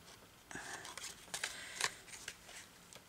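Small scissors snip through paper cut from a book, with soft crisp cuts and rustling at close range under faint murmured speech.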